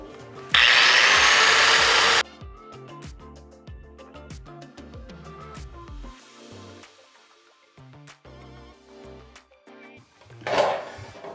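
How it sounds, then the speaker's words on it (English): A power grinder cuts into a steel griddle pan for a jet burner in a loud burst of about two seconds, then quieter scraping and rubbing follows, with a brief grinding flare near the end. "Grind a little, mash a little."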